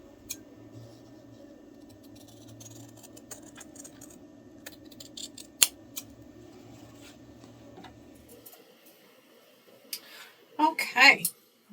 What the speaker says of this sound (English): Okay, got all of those trimmed up now.